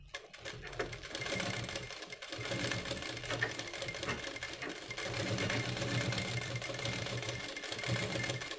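A sewing machine stitches a full seam along a blouse back, running continuously with a steady mechanical whir and rapid needle clatter from start to finish.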